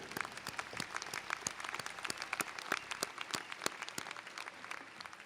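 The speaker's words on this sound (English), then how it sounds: "I ask you to thank them now with a round of applause." A large commencement crowd in an arena claps for the faculty, a steady, dense patter of applause that sounds fairly distant and continues without a break.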